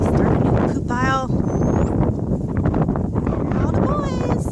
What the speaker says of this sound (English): it is so windy today